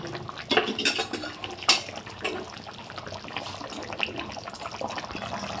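A pot of home-style aar fish curry with potatoes is lifted off a gas stove, with metal clanks, scrapes and utensil clinks up close, two sharper knocks standing out against a steady kitchen background.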